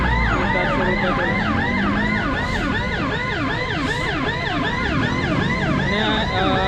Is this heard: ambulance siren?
yes